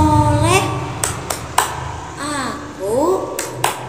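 Children chant the 'tepuk anak soleh' clap rhyme in singsong voices, punctuated by a handful of crisp, rhythmic hand claps that land between the sung phrases.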